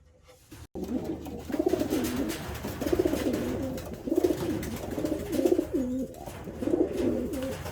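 Resting pigeons coo nearby in a slow, steady rhythm, with about six soft, repeated calls over a low murmur of background noise.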